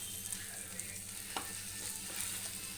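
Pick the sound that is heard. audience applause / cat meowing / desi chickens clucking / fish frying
fish frying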